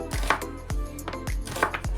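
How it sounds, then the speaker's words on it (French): Knife chopping an onion on a board in a home kitchen while making a quick meat broth, about six sharp rhythmic cuts, close and clear, no talking. "je vais venir couper mon oignon pour mettre dans ma casserole"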